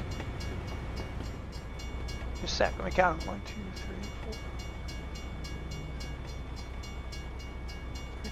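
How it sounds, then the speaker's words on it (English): Long freight train in American Truck Simulator rolling past with steady wheel clatter and rumble throughout, while someone talks briefly over it. "that's a long train."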